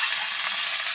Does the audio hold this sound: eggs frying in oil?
yes